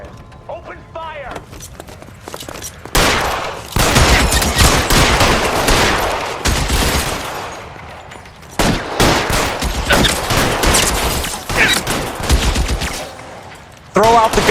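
Loud, sustained gunfire in the video game L.A. Noire, dense bursts of rapid shots continuing for long stretches with brief lulls, mixed with mechanical clatter and game sound.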